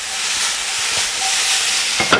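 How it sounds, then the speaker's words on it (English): Noodles dropped into a hot pan for a quick noodle dish, a steady sizzling hiss with a sharper splash of frying crackle right at the end. "and then we can just drop in our noodles"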